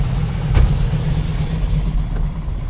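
Classic V8 cars leave a car show after the prize giving, a deep, rumbling engine note rolling past nearby with a brief rise in the middle, steady and fairly loud throughout.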